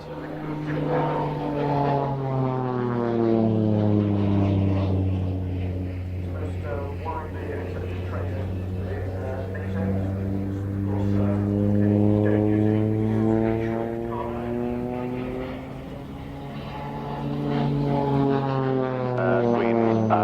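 Twin rotors of a Chinook helicopter turning at an airfield, a steady deep throbbing drone with a layered harmonic whine that slowly rises and falls in pitch, loud and continuous for the whole stretch.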